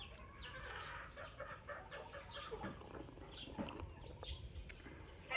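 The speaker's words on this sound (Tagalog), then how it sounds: "Tignan nyo guys yung marami manok dito na alaga." A flock of chickens raised on a rural farm, clucking and chattering in scattered bursts at moderate distance over outdoor ambience.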